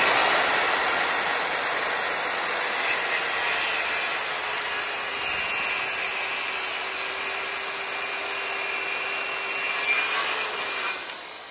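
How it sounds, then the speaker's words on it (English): A power saw cuts a 45-degree bevel through wood, a loud, continuous whining rasp holding steady for about eleven seconds before tapering off at the end. "So let's see if we can cut that out."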